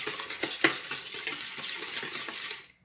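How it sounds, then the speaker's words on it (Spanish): A spoon stirs a sweet anise rosquilla doughnut mixture in a bowl, a steady close scraping and swishing with one sharp knock against the bowl, then silence at the end. "Removemos otro poquito."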